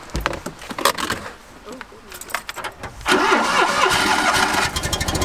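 A small car's engine cranks with rattling, uneven turns, then catches about halfway through and settles into a steady running idle, with people chatting and keys jangling close by throughout.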